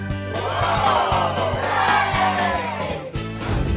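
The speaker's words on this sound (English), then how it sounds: "the whole family clapped and cheered" Cartoon family of pigs clapping and cheering together, a dense, lively burst of applause and excited voices with music underneath, sustained and close throughout.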